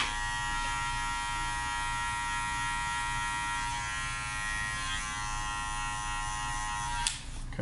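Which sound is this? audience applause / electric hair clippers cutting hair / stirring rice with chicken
electric hair clippers cutting hair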